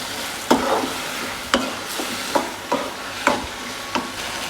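Large prawns in curry stirred and sautéed in a frying pan, with a steady sizzle and a spatula scraping in a loose rhythm about once a second, close up and with no talking.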